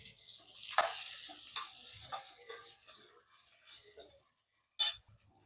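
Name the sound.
tomatoes added to hot oil, sizzling while stirred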